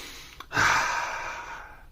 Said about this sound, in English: Owen took a deep sniff.